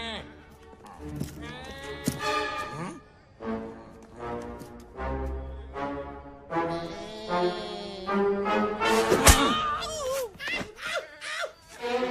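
A man imitates goat bleating with his voice, giving a string of wavering, nasal calls in bursts, some strained and rising, close and fairly loud over faint background noise.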